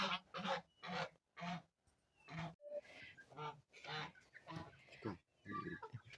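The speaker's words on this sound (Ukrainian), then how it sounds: "Файні гусочки" Geese honk and cackle in repeated bursts, fairly close, with short pauses between calls.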